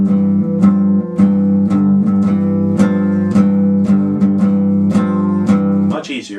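A steady boogie-style guitar riff, with the fretted moves on the fourth string, played as an even, repeating pattern of plucked notes over a sustained low drone, close and alone, ending with a brief scuffle.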